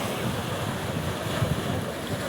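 Steady broadband wash of sea waves at an Andaman Islands beach, with wind rumble and continuous surf noise throughout and no talking.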